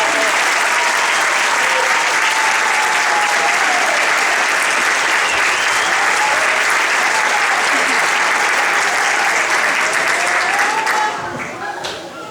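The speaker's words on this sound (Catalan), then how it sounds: "anem a donar-li un fort aplaudiment" A presentation audience gives Miquel Gil loud, sustained applause, a thick roar of clapping with cheering voices inside it that holds for about eleven seconds before thinning out.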